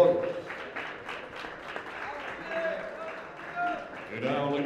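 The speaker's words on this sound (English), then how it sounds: "let's give them both a big round of applause." Crowd applause at a 60kg boxing bout between Mexico and Chile, a steady wash of clapping and cheering running under an announcer's voice throughout.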